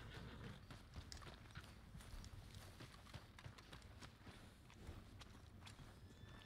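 Steady clip-clop of a horse's hooves walking at an even pace in the video game Red Dead Redemption 2, close and fairly quiet, with a faint airy background and no talking.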